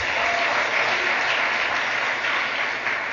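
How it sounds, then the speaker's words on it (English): A crowd of women at a political party league gathering claps steadily in sustained, dense applause, loud and close throughout with no speech over it. "Give yourselves a round of applause."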